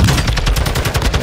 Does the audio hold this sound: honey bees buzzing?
no